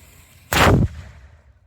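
A historic cannon fires once at a Fort Klock Fourth of July celebration: a single loud, close boom lasting about a third of a second, then a fading rumble into quiet outdoor ambience.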